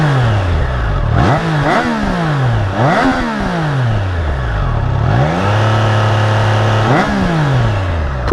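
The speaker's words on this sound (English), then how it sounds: "And now here's it revving a little bit." Triumph Trident 660 motorcycle engine revving up and down in four or five loud, close blips, pitch climbing and falling back toward a steady idle between each rev.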